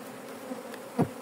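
Honey bees buzz faintly around an open beehive, a soft close hum with one brief louder pass near the end.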